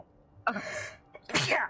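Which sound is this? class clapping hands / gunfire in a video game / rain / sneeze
sneeze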